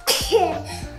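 A single sharp sneeze bursts out close by over a bowl of tiramisu mixture in a home kitchen, brief and loud, with a short voiced tail.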